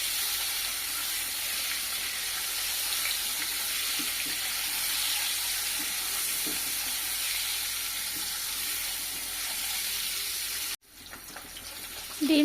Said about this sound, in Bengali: উল্টে পাল্টে ভেজে নেব লাল লাল করে